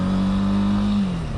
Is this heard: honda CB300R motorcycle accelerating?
yes